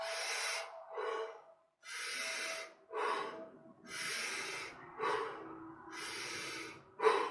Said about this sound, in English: I do about 30 breaths, and then I do about 5 breaths as I'm getting in